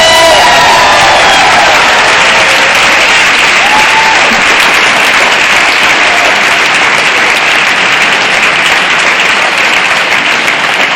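Loud, sustained audience clapping and cheering at a talk, dense roaring applause with whoops and shouts over it, continuous for several seconds.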